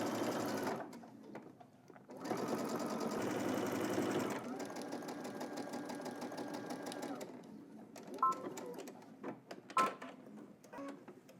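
A sewing machine runs understitching on the lining side of a jumpsuit seam, about a quarter inch in: two dense bursts of rapid stitching, a quieter buzzing run, then a few short clicks and taps near the end.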